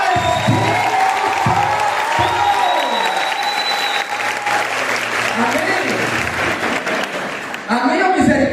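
Sustained audience applause with cheering voices fills a youth charismatic Catholic vigil gathering, loud and dense from start to finish, with a brief dip near the end before it swells again.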